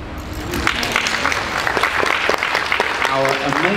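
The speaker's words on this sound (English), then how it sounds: "A bit of a round of applause for our sponsors." An audience at a charity frog auction run by a Mercedes-Benz dealership applauds its sponsors, a full, sustained round of clapping from a crowd nearby, with a voice briefly cutting in toward the end.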